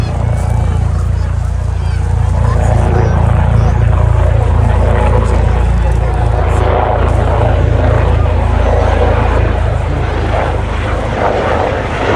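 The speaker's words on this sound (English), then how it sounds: "welcome the Leonardo AWS Search and Rescue Helicopter" A Leonardo AW search and rescue helicopter at an air show: a loud, steady engine drone with a low rotor throb fills the whole stretch, close and continuous with no pauses.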